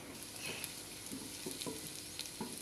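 Carrots and other vegetables stirred in a pan while cooking noodles, with a steady low sizzle and a few soft scraping strokes of a spoon, quiet and close, no talk.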